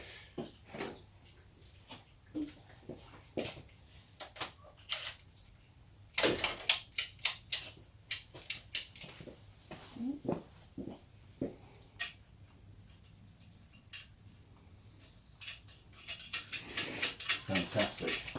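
Ratcheting socket wrench clicking in scattered short bursts while removing spark plugs on a Mazda Axela 2.3L, close and fairly quiet, with a denser run of rapid clicks near the end.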